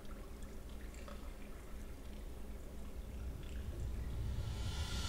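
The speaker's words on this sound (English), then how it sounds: "there's a soundscape in that room that plays like the kind of running water" Running water ambience in the Portal video game, a quiet continuous liquid trickle and wash that grows slightly louder toward the end, heard alone without voices.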